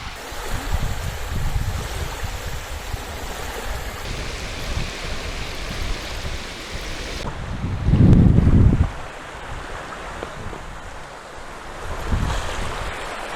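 Strong wind buffets the microphone on a sandy bank of a very wide river, a continuous low roar with gusts swelling louder near the middle and again at the end, with no talking.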